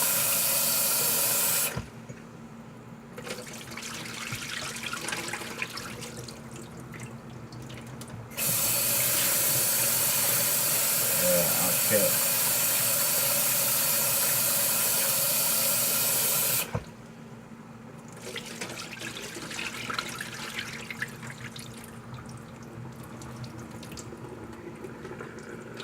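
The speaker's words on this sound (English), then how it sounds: "So let me wash my rice now." Rice being washed under a running kitchen tap, with bursts of steady gushing water that start and stop in long stretches, separated by quieter moments of handling in the sink; a voice briefly speaks.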